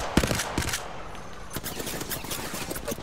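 Rapid video-game gunfire in Apex Legends, fairly faint bursts of quick shots rattling in clusters over a low background, with a player speaking briefly between volleys.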